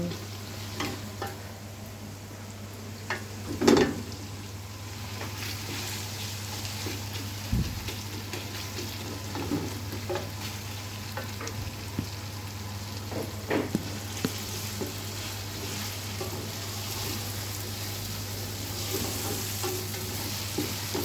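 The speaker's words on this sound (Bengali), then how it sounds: "অনেক বেশি নাড়াচাড়া করছি তাই না" Khichuri frying and being stirred in a pot makes a continuous close sizzle, broken by occasional spoon scrapes and clunks, with a low steady hum underneath.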